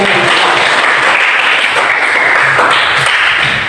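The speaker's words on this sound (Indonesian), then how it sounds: "Berikan aplaus untuk jawaban." Classroom applause from a group of students, a dense steady burst of hand clapping lasting several seconds, close and loud with no speech over it.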